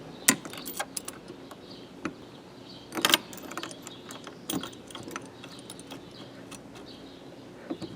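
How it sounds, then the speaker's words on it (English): Small metal bolts being threaded in during a Grant steering wheel install, giving faint intermittent clicks and taps with a few sharper metallic clinks, close by with no talk. "So I'm going to go ahead and thread in these bolts now."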